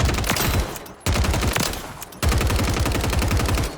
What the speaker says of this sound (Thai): มีเอฟเฟกต์นะ อ่ามีเสียงปืนด้วยนะ